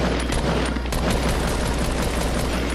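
Hunter rifle gunfire in a battle royale video game, a loud, steady barrage of rapid close shots with heavy low rumble and no gaps, with no talking.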